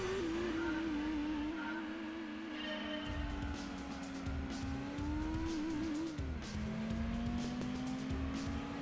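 Car engine in the racing video game Gran Turismo 2 revving high with a steady, sustained whine that dips and climbs through gear changes, loud and continuous with no talk.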